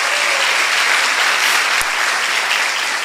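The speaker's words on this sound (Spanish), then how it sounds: "Y otro aplauso fuerte para David Franco, por favor" Loud, sustained audience applause fills a business training session, dense, steady clapping from a large crowd without a break.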